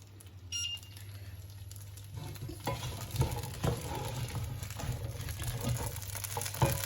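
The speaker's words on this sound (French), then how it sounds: "Je laisse comme ça cuire un petit peu avec l'huile d'olive" Broad beans, skins still on, frying in olive oil in a pan, a steady sizzle with scattered clinks and stirring scrapes that grow busier after a couple of seconds, with no talk.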